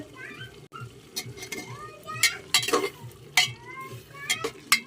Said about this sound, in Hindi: अब टमाटर डाल दिए, टमाटर के भी गला लिए भून के